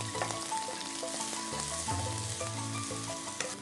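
Onion frying in hot oil sends up a dense, steady sizzle with scattered crackles, heard close up under a low background hum, with no one speaking.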